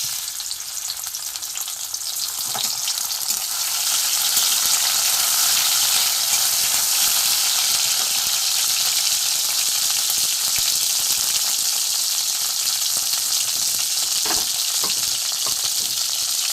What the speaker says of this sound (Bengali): কড়া গরম হয়ে গেছে, সর্ষের তেল দিয়ে দিয়েছি। এখানে আমি টমেটো কুচি দিয়ে দেবো।